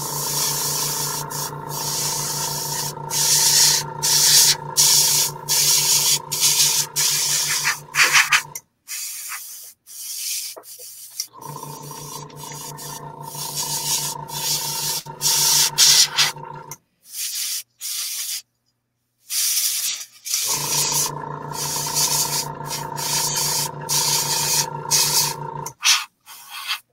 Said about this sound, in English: spraying water on the backs of these.